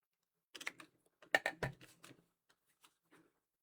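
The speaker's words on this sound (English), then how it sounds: "So I'm just going to snip that off here." Scissors snipping a lace piece for a memory binder craft, a quiet run of short, crisp cutting clicks in uneven clusters, then a few sparse isolated snips.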